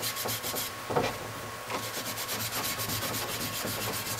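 A Scotch-Brite pad with cleaning soap scrubbing parts of a Weber triple-barrel 40 IDTP carburetor, giving a steady, close, rhythmic rubbing and scouring that runs throughout with a few brief louder strokes.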